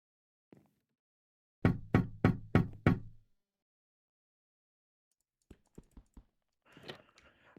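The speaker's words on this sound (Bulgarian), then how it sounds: "На вратата или на прозореца почука" Knocking in a Minecraft horror mod: a rapid run of five hollow knocks, then a pause and a sparser, fainter series of taps, ending in a short rustling burst.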